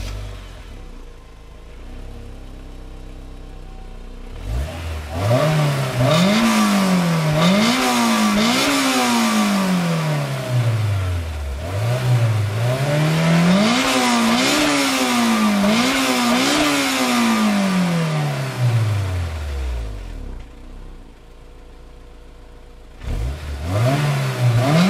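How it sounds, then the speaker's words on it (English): Honda S2000 four-cylinder engine revved through its exhaust, repeated sharp climbs and drops in pitch, loud and close, over a steady idle that returns between the bursts. "I'll show you what the exhaust sounds like on this S2000."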